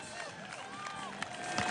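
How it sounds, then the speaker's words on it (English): Spectators applaud and cheer along the route of the 2016 Amsterdam marathon as a runner emerges from a park, a steady, fairly distant crowd roar running beneath a commentator's voice. "lifted by the burst of applause as he came out of the park there"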